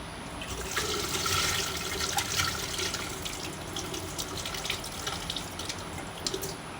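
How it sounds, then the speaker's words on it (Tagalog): Rice grains being washed with water, a steady wet rustle and splashing of grains swirled in a container, moderately loud and continuous, with no talking. "Hugasan natin ng 3 beses."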